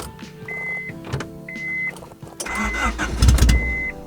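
A 1991 Honda Civic Wagon RT4WD that has sat for years cranks with whining starter bursts, then catches and runs roughly, rising into a loud, close engine rumble.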